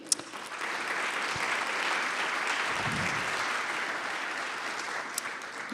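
An indoor conference audience claps steadily as speakers are welcomed to the stage, a dense, even wash of applause that holds for several seconds.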